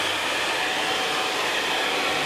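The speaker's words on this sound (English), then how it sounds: "I'll blow dry it from left to right, and right to left." A hair dryer blowing steadily during a low zero fade haircut with a textured pompadour, a loud continuous whooshing hum close by with no talking.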